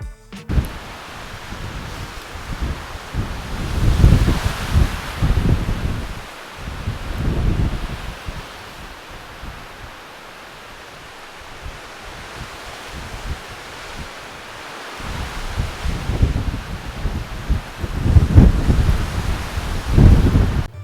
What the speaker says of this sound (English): It was crazy windy up there.